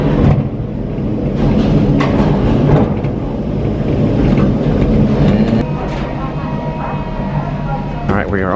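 A tram climbing a hill rumbles and hums steadily with heavy low mechanical drone and rattling, loud and close throughout, easing off near the end, with voices audible over it.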